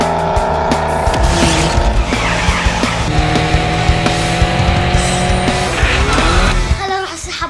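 A wall-climbing toy car drives along, with loud, constant racing-engine and tire-squeal noises throughout, close and busy.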